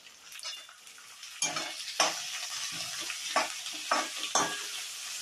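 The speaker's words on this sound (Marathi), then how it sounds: "फोडणीत थोडी कोथिंबीर पण टाकूया." Coriander sizzles in a pan of tempering with onion, tomato and peas. Low frying hiss runs under several close, sharp spoon scrapes as the mixture is stirred at an uneven pace.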